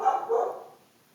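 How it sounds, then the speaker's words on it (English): A single muffled dog bark in an indoor room, fairly close, with a short tail fading out, and no other sound around it. "excuse my dog"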